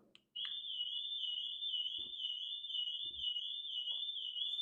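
A portable gas detector sounds a loud, continuous high-pitched electronic alarm tone that starts abruptly and holds steady, with a few faint clicks and thuds in the background.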